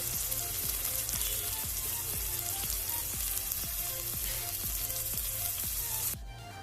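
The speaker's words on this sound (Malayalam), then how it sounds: "അതിട്ട് നല്ല അടിപൊളിയായിട്ട് ഫ്രൈ ആകുന്നവരെ നമ്മൾ ഫ്രൈ ആക്കി എടുക്കാം." Marinated chicken fries in hot oil with a continuous loud sizzle and crackle, punctuated by regular soft stirring knocks, before the sizzle drops away abruptly near the end.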